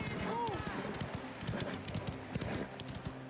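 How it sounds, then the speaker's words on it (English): Horseshoes clip-clop on cobblestone in Mafia The Old Country, a quick, steady run of hoof strikes with a brief whinny near the start, while someone talks over it. "Oh, I love that noise of horseshoes on cobblestone."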